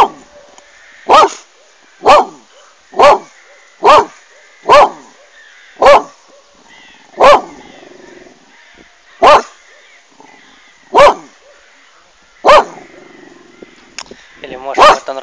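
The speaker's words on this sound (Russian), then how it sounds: "вот так собакам сидеть и гавкать друг на дружку" Dogs bark back and forth on a blooming beach, a dozen sharp, loud barks at roughly one-second intervals with short pauses, then a quick cluster of barks at the end.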